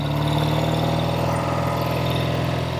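A 1968 Triumph Bonneville 650 motorcycle engine while riding, a loud, steady, rhythmic throb with a continuous pulsing note and constant volume throughout.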